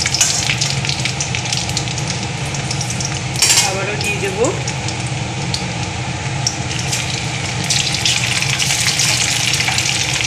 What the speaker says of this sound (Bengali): চিকেনগুলো ভেজে নিয়ে ফিরে আসছি